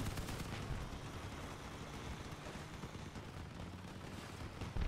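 Machine gun and cannon fire in the vehicle combat game Crossout form a dense, continuous rattle of rapid shots and bursts, loud and sustained throughout.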